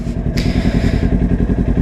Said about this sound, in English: He got me an exhaust. The bike sounds 10 times better.